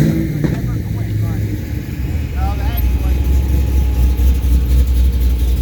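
Expensive Mercedes E350 cars roll slowly past people on scooters during a Rod Run 2022 lunch break, a steady low engine rumble that swells toward the end, with people talking over it.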